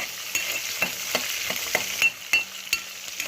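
Slit green chillies fry in a pan with a light, steady sizzle, broken by several sharp stirring clicks from a spoon against the pan.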